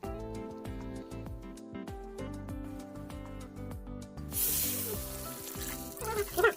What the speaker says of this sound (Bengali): মশলাটা তেল ছাড়ার পর জলটা ঢেলে দিলাম